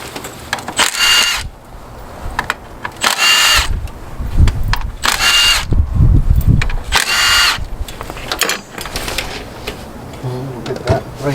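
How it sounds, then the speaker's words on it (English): Power tool whirring in repeated short bursts while backing out the 10mm bolt on the ignition coil of a 2007 Nissan Sentra, loud and close, with a voice talking between bursts. "Now I'm gonna remove the 10mm bolt on top of the ignition coil."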